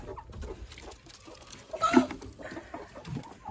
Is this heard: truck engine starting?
no